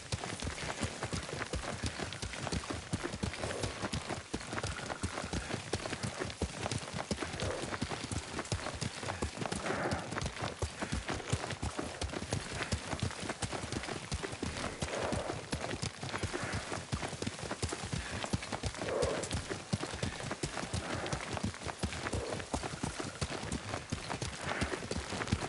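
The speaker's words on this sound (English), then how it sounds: "Lord Sakai taught me to ride a horse." A horse gallops under a rider in Ghost of Tsushima, hooves pounding in a fast continuous rhythm for the whole stretch, close and steady, with a faint whinny now and then.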